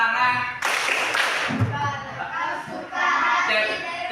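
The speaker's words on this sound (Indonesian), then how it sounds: "Kalau kau suka hati, tepuk tangan." Class of students clapping hands in a school classroom, a burst of mixed clapping and crowd noise rising early and tapering, under children's and teacher's voices.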